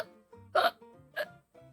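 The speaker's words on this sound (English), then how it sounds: "Pete still has the hiccups." Two or three sharp hiccups, close and fairly loud, separated by quieter voiced sounds, as in a children's storybook reading.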